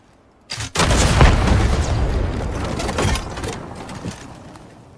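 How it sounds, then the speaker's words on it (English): A rocket in the video game Highguard blows up grey building walls: a sudden loud blast followed by a long rumbling roar of collapsing debris that slowly fades, with no talk. "Point that rocket and wipe them out."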